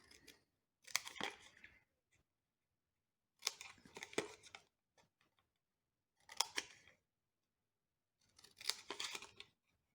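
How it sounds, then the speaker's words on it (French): Scissors snip through paper in four short bursts of quick, crisp cuts separated by pauses, close and fairly quiet, while a paper anniversary calendar is trimmed at a craft table. "Et donc, on va faire un petit coup de ciseau quand même."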